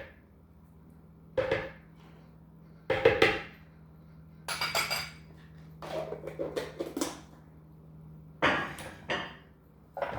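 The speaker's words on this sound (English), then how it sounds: "I'll be adding 3 scoops into each" Greek non-fat yogurt being scooped into blender jars, with a few distinct hard clunks and knocks of a spoon against the containers, interspersed with softer scraping taps and quiet gaps between.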